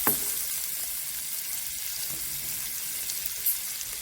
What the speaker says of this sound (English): She adding her broccoli to her juices to let them cook